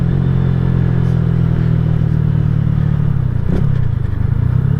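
A KP Mini 150 motorcycle, fitted with a Nibbi carburetor and aftermarket muffler and barely broken in, drones steadily at speed under heavy wind rush, close and loud with no talking.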